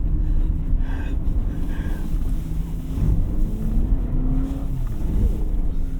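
A 2024 Honda CR-V Sport-L Hybrid AWD doing donuts in snow in Snow Mode: a low, continuous engine and tire drone with wind buffeting on the microphone, heard from inside the cabin, with a quick gasp partway through.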